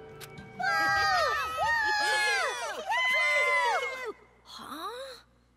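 A crowd boos in the Danganronpa Another Episode video game, with voices jeering loudly in wavering overlapping bursts, then a short pause and a final shorter burst.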